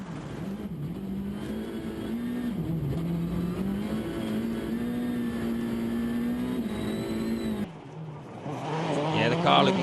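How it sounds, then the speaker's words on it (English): A 2012 WRC rally car drives through deep snow and rutted tracks on a Rally Sweden stage, its engine droning steadily close by and rising into revs toward the end, with commentators talking over it. "Car looking great around the corners there"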